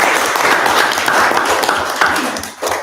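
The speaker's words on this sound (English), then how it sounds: "Please join me in giving them a round of applause for their efforts." A room at an ordinary council meeting fills with a round of applause, many hands clapping loudly and steadily before the clapping thins slightly near the end.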